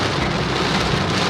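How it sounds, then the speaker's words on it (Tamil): Heavy rain pours down at night in a city street, a loud, dense, unbroken roar of drops hitting surfaces close by, with no voices over it. "பிடி பிடி பிடி மழை."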